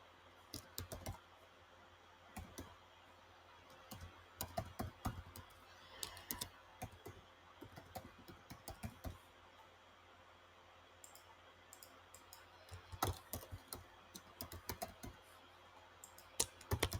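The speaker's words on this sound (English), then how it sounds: "let me go there and type some email" An email being typed for Outlook on a computer keyboard: faint, close keystroke clicks come in short irregular bursts separated by pauses, in a quiet room with no speech.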